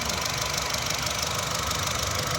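A 2017 Honda WR-V VX petrol car idles with a steady, even engine rumble and faint mechanical knocking, close and continuous throughout.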